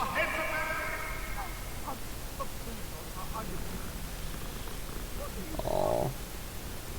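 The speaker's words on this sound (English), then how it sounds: "Oh, it's a cat." A cat in the video game Hogwarts Legacy purrs softly beneath a low hiss of background noise, with a short tonal mew at the start and a brief louder burst near the end, while a person talks.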